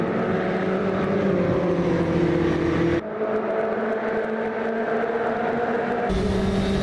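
Ford Sierra Cosworth DTM race car in a racing simulator game at Willow Springs, a loud, steady engine drone with tonal whine that drops in pitch at gear changes, running continuously without talk.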